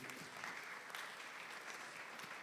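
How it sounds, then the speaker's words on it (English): An audience at a panel discussion during a school sesquicentennial lecture series gives a round of applause, a fairly faint, steady patter of many hands heard from a distance in a large hall. "A round of applause for him."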